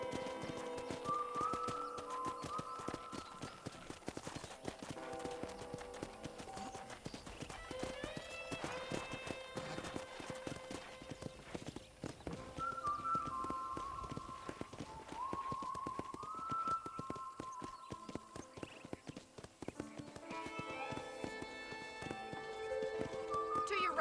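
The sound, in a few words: horse galloping, from a video game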